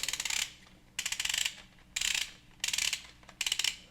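Ratcheting dial on a Kiwi Design K4 Boost head strap being turned to tighten, five short bursts of rapid fine clicking separated by brief pauses, close and crisp with no talk.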